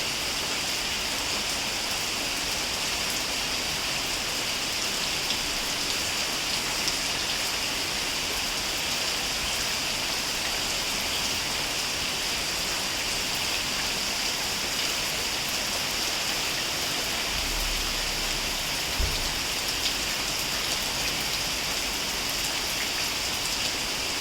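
Light rain falls steadily as a soft, even hiss of drops on surfaces, continuous and fairly quiet, with a few faint low bumps.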